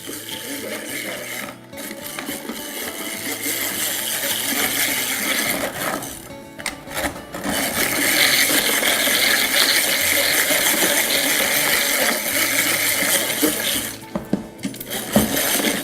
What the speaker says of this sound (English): we just want to continue beating that until it gets a little bit fluffy